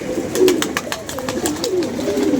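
Pigeons coo repeatedly in soft, rolling low calls close by, with sharper bird chirps and wing or perch sounds breaking in at intervals; no one speaks.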